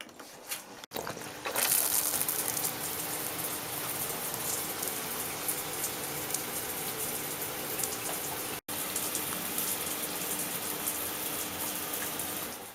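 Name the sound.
shower running, water leaking between shower head and hose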